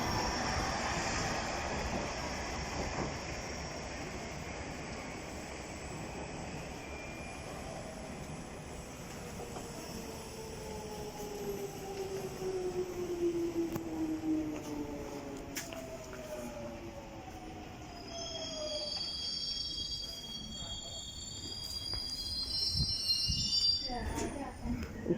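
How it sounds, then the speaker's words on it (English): A London Underground Metropolitan line train runs through Wembley Park station toward Stanmore, a steady rumble with rising and falling motor whine and screeching wheels, and a voice speaks over it. "got another train going to Stanmore"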